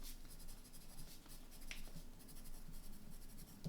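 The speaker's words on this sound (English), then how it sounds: "Got to write it down." Pen writing on paper: a continuous soft scratch of strokes, close and quiet, with no talking.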